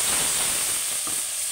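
Water poured onto spices frying in oil in a home kitchen, with a cumin and coriander powder and curry leaf masala, gives a steady, close, bright hiss and sizzle that holds evenly throughout.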